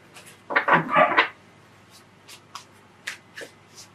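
Oversized tarot cards are shuffled by hand in a quiet room, a short burst of riffling followed by several softer, scattered slaps and rustles.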